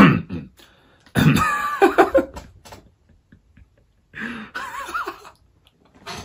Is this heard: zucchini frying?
no